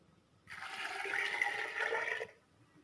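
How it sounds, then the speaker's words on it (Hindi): Water pours from a bowl into a cooking pot for camel meat karahi, a steady splashing gush of just under two seconds, close and clear, with no voices. "अब मैं पानी डालूंगी, 1 कटोरा पानी है"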